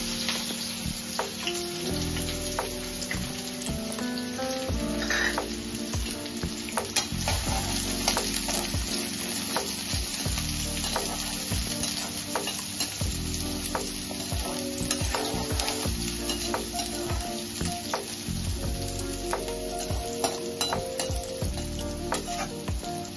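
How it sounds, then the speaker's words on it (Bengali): Chopped onions frying in hot oil for a mustard and curry leaf chicken: a loud, steady sizzle that runs throughout, with stirring and occasional clinks of a utensil against the pan. "পেঁয়াজ কুচিগুলো আমি দিয়ে দেব।"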